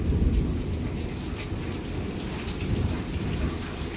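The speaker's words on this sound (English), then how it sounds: "It's storming right now." A thunderstorm heard from a patio: steady heavy rain hisses and patters on surfaces throughout, with low rumbling thunder beneath, continuous and fairly close.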